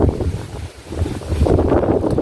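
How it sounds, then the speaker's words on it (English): Wind gusts blow outdoors beside a villa with a pool, a loud rushing buffet that dips briefly and then surges back, dense and close to the microphone. "It's getting a little bit windy"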